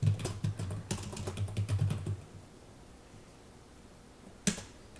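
Computer keyboard typing while editing a PDF online, a quick close run of key clicks for about two seconds, then near silence broken by one sharp keystroke.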